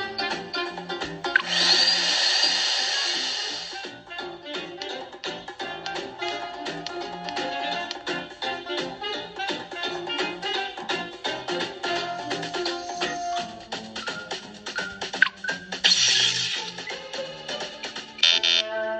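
Rhythmic sawing in a zombie-catching video game, a steady rasping stroke pattern mixed with busy game music and effects, with brighter bursts near the start and end.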